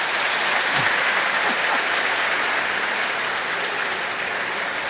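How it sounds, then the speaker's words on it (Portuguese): Steady applause from a church congregation during a Catholic homily, a thick, sustained rain of clapping hands without pause, with a few faint voices underneath. "Isso, uma salva de palmas ainda."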